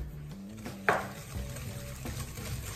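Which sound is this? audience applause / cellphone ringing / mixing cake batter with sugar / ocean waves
mixing cake batter with sugar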